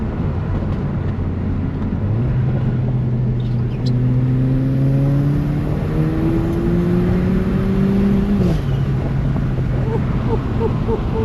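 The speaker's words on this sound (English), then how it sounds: "I don't know if you guys can hear those induction noises" Steady AMG hatchback engine drone with induction noise and rising tones as it accelerates, a continuous rumbling roar building through the clip with a brief shift near the end.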